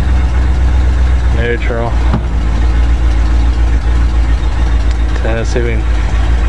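A Ford FE V8 engine idling after a cold start on a 15-degree day, a loud, deep, steady rumble close by, with someone talking briefly over it twice.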